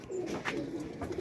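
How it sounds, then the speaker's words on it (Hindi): A pigeon arriving among a flock gives soft low cooing, a steady murmuring coo that runs through the short moment at moderate distance, with no talk. "ये चौथा कबूतर आ गया"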